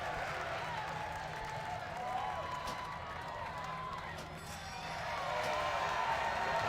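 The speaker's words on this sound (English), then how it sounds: "What's up with the cheering?" Crowd cheering and applause swell during a World of Warcraft session, a steady wash of distant clapping and voices that rises and falls under game music and effects.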